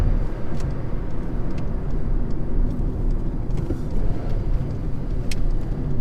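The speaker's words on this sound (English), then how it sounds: "the engine sounds pretty thrummy" A 2008 Volkswagen Polo 1.2-litre engine running steadily while driving, a low rumbling thrum with road noise, fairly loud and close, no talking.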